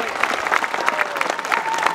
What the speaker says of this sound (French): Et applaudissements pour ce podium.